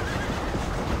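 A horse in the video game Red Dead Redemption, with a brief whinny over clip-clop hooves, heard close against a dense, noisy background.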